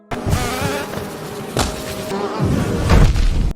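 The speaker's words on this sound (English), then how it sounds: "the enemies are, well, they're bees" Buzzing bee enemies in the Hive area of the video game Hollow Knight, with droning insect buzz, a few sharp thudding hits and game effects in quick succession.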